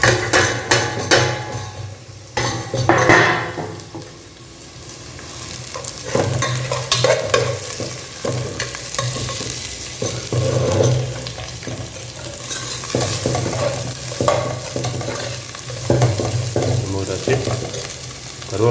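Coriander, cumin and fennel sizzle in a pan for village fish curry, with stirring scrapes and occasional knocks against the pan, close and moderately loud with no talk.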